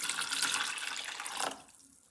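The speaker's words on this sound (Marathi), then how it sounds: "आता याच्यामध्ये पाणी घालायचं आहे." Water splashes in a steady pour into a pressure cooker holding soaked rajma, close and clear, then stops abruptly partway through, leaving faint dripping.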